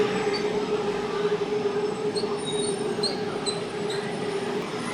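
Electric sky train running on an elevated track near MBK in Bangkok, a steady moderately distant rolling hum with faint high wheel squeals, no talk heard.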